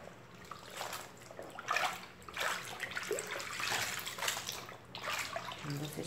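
A soaked cloth, washed with bleaching liquid soap, is rinsed by hand in a basin of water, giving irregular bursts of sloshing and splashing that rise and fall close by.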